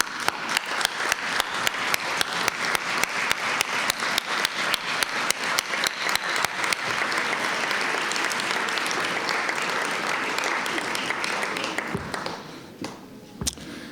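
An audience at a graduation speech applauds, beginning with evenly spaced claps that quickly merge into a dense, sustained round of clapping before thinning out and fading near the end.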